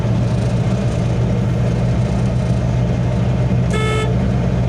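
A car horn gives one short toot while overtaking on a single-lane highway, sounding over the loud, steady drone of the engine and road noise inside the vehicle.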